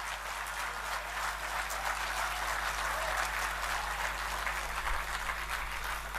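Audience at a national poetry gathering (kavi sammelan) on a campus claps in a steady, moderate round, the applause riding over a constant low electrical hum.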